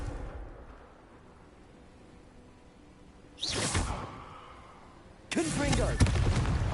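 Confringo fire-blast spell in the Hogwarts Legacy video game, two separate bursts: a short whooshing blast, then a louder, longer explosive rush after a brief quiet gap.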